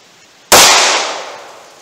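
.38 Special +P gunshot, Hornady ammunition fired from a 2-inch barrel: a single sharp, loud report after a brief quiet, its echo tailing off over about a second.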